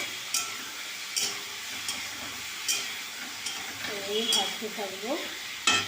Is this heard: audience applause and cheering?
no